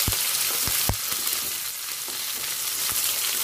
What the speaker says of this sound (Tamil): இப்போ நல்லா வதக்கிக்கலாங்க.